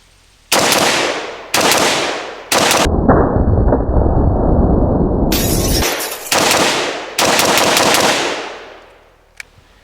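An IWI Galil Gen 2 pistol in 7.62x39 fires several loud, rapid bursts of shots, each ending in a ringing decay, with one long sustained string in the middle and a faint click at the end.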